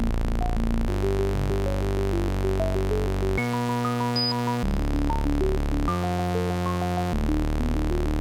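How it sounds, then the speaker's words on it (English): A synthesizer steps through a pitch sequence used as a bass line, with low buzzy tones shifting in blocks of notes and higher blips hopping above them, loud and continuous. "I want to use this as a pitch sequence for my bass."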